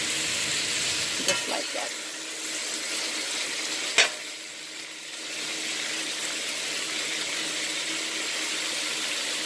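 Snapper fish sautéing in a pan for Jamaican brown stew, a steady broadband sizzle throughout with a couple of brief clinks, and a short spoken phrase early on.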